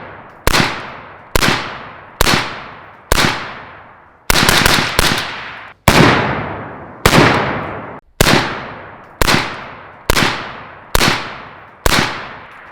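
A rifle fitted with an LMT ION 30 suppressor and a gas-heavy setup fires about a dozen loud, close shots, mostly single reports at steady intervals plus one quick burst of several, each with a ringing decay and no talk.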